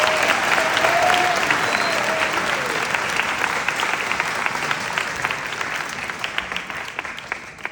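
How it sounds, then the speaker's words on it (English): A graduation ceremony crowd at Taft school applauds Mr. Mitchell, the Freshman Academy director, with dense sustained clapping that starts loud and slowly thins, a faint whistle rising briefly near the start. "Let's give him a round of applause."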